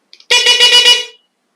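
A newly installed 110 dB aftermarket horn on an Onvo RX7 car sounds a single loud, close blast of just under a second, with a slightly wavering tone and two faint clicks just before it.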